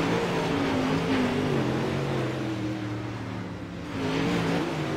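Simulated UMP modified race cars roar as the green flag drops at Eldora's dirt oval, several engines droning and rising together in a steady, loud, continuous blend with a brief dip before swelling again.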